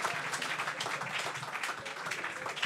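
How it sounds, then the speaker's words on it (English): Guests at a church banquet applaud in a lively, uneven burst, with a crackle of many hands clapping close by. "Let's applaud them, please."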